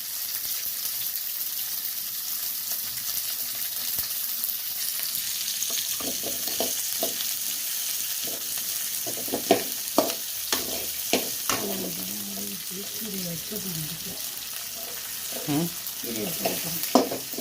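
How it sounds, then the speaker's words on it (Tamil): Mustard seeds, urad dal, onion, green chilli and garlic frying in a pan over high heat, with a steady sizzle under scattered stirring clatters and pops from the spoon. "கடுகு உளுத்தம்பயிறு, வெங்காயம், பச்சை மிளகாய், பூண்டு இதெல்லாம் போட்டு நல்லா தீயை வேகமாக வச்சுருக்காங்க."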